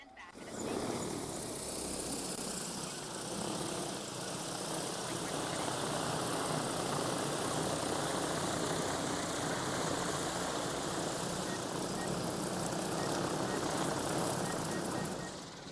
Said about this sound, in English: So I can go ahead and take the T40 off, which I'll do right now,